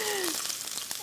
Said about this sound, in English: Oh, do you hear the sizzle?